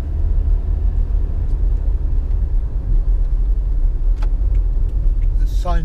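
A car drives through streets in Thailand, giving a steady, close interior rumble of engine and road noise with a few brief clicks near the end.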